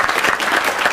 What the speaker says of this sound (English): Give Yvonne a round of applause.